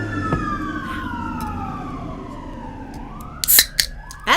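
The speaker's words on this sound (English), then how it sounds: "We have so many sirens." Several emergency sirens from Santa Monica rescue vehicles wail outside, steady rising and falling tones drifting past at a distance, with sharper, louder whoops breaking in near the end.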